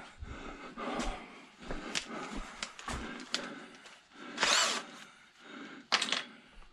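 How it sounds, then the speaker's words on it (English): A power drill whirs in short, uneven bursts, starting and stopping repeatedly, with a few sharp high-pitched squeals and no talking. "We'll get back to you when I get all these holes drilled."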